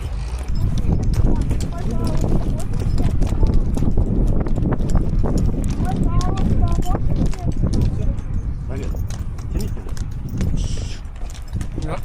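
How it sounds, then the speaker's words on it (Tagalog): Rhythmic hoof clip-clops of a walking horse at Kaindy Lake, Kazakhstan, close and continuous, with people chattering over the steps. "I'm riding a horse for the first time."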